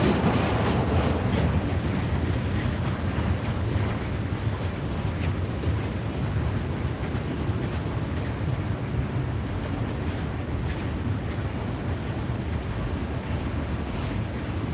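Southern Railway steam locomotive 630 departing Cowan, Tennessee, heard as a steady, loud rumbling roar with wind buffeting the microphone throughout, no clear chuffs or whistle standing out.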